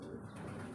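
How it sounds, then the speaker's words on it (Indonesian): A pigeon squab in an outdoor pigeon loft gives a soft, steady cooing murmur, close by and continuous, with faint background noise. "menemukan satu piikan merpati di dalam umbaran ini ya"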